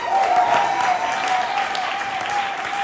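Audience at a poetry slam applauding a poet, a steady dense wash of clapping with crowd noise, loud and continuous throughout.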